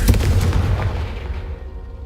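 A Confringo spell blast in the video game Hogwarts Legacy goes off as a single loud, close boom with a punchy low thud. It decays quickly to quiet.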